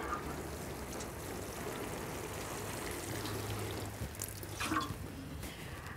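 Water poured from a watering can onto freshly patted potting soil in a patio potato bag, a steady soft splashing and trickling stream close by with a few louder drips near the end.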